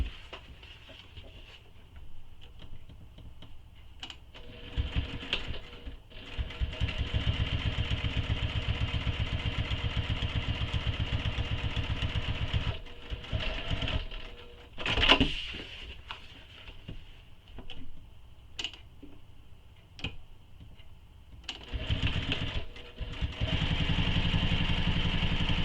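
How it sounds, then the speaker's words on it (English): A sewing machine top-stitches along the fabric edge of a tote bag in steady motorized runs, pausing between bursts, with a few clicks and one louder knock midway. "And now we're going to top stitch along the fabric edge using the seam"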